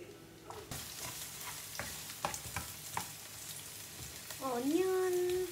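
Onion for a turkey bolognese sizzles softly in a pan while a utensil taps and scrapes now and then, and a short voice-like sound rises near the end.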